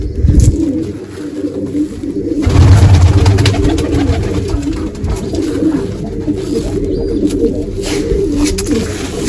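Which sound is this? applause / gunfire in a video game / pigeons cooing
pigeons cooing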